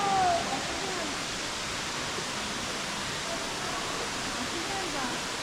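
Steady rushing waterfall in a canyon at Matthiessen State Park in the Dells area of Illinois, a broad, even roar filling the scene with no breaks.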